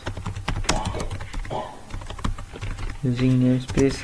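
Dense keyboard typing of C++ code, keystrokes clicking in quick irregular bursts close to the microphone, with a voice briefly sounding near the end.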